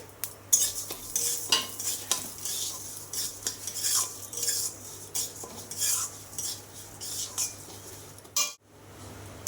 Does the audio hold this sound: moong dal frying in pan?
yes